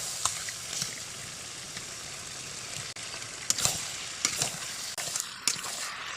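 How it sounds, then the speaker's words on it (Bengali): Chicken pieces fry in a spiced masala paste, a low steady sizzle broken by several sharp spatula scrapes and clacks against the pan toward the end, close but fairly quiet, with no talking. "এখন আমি মশলার মধ্যে চিকেনটাকে দিয়ে দেব। একটু একটু করে দিতে থাকবো আর কষতে থাকবো।"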